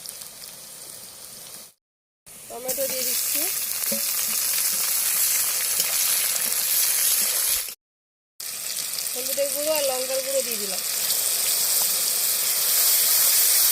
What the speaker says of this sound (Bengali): আদাটাও কুচনো দিয়ে দিচ্ছি একসঙ্গে ভাজা হয়ে যাবে কষানো হয়ে যাবে